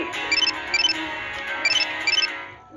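A phone rings with an incoming call, a repeating electronic ringtone in bursts of quick high chirps over a steady tone, close and fairly loud with no talk.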